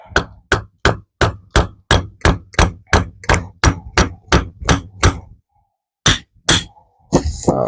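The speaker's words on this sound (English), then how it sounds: "You could grab a rubber mallet and hit it." Rubber mallet strikes a bolt being driven through a leaf spring bushing on a first-generation Camaro/Firebird F-body, about a dozen sharp, evenly paced close blows, then a pause and two more hits before a brief clatter.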